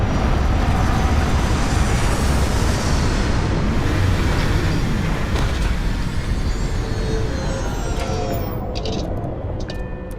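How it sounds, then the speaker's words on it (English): Loud, steady roar of spaceship thrusters at takeoff in the Starfield video game, a dense broadband rumble that holds for the whole stretch and eases slightly near the end, with no talk. "Landing gear. Check. Thrusters. Check."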